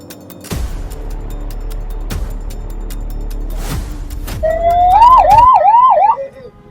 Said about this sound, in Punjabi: ਐਂਬੂਲੈਂਸ ਆ ਗਈ ਵੀ ਆ ਖੜੀ ਆ